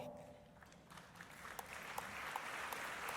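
Applause at the 2019 Goldman Environmental Prize Ceremony rises from quiet to a fuller, steady clapping across a large hall, heard at a distance.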